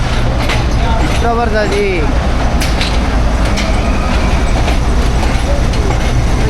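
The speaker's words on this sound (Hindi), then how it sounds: "तो पाकिस्तान रेलवेज़ की शान 5 ऑफ ग्रीन लाइन आ गई है और मज़े की बात 9005 के साथ आ गई है।" The Pakistan Railways Green Line train pulls in behind locomotive 9005, a loud continuous rail roar with clattering wheels and a horn-like tone, while people talk nearby.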